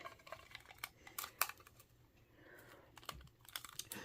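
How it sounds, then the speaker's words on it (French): Adhesive tape pulled and pressed onto cross-stitch bead packets, heard as quiet close crinkles, ticks and short tearing rasps in irregular bursts. "Je vais mettre du ruban adhésif"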